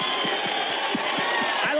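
Crowd at a political rally, a continuous roar of cheering and shouting voices heard close and loud, with a few low thumps scattered through it.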